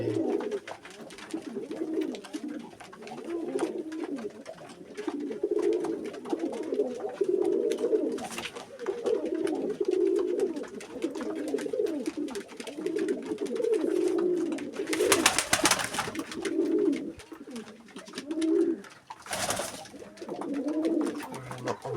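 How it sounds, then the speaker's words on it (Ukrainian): White breeding pigeons coo repeatedly in soft, rolling phrases, fairly close, with a couple of sharp knocks or rustles breaking in. "Це голубі."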